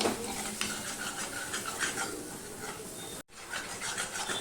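Flat beans with turmeric and a little sugar stirred in a pan, a continuous dense scraping and sizzling texture close up, briefly cut to silence near the end before resuming.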